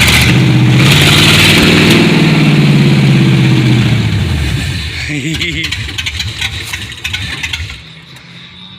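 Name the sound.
car engine revving through exhaust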